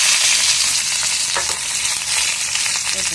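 Mustard seeds, curry leaves and asafoetida frying in hot oil for a mixed sprouts sundal, a loud, close, continuous sizzle with crackling pops and a brief stir.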